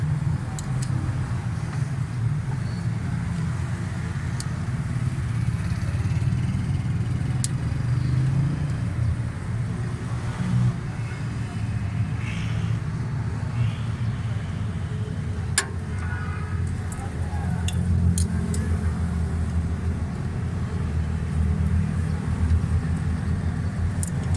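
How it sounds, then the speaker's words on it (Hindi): A Hyundai Santro car engine idles steadily with loose tappets, a continuous low mechanical rumble with faint ticking running throughout, close by and without voices. "सारे टैपड काफ़ी लूज़ हैं, एक एक राउंड पूरा खुल रहा है।"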